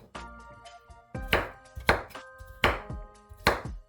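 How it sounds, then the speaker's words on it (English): Vegetables being diced on a cutting board for a homemade veggie soup: a handful of sharp knife chops land at an uneven pace, close and crisp, with no talking over them. "Cut it in small pieces. Kind of like dicing it."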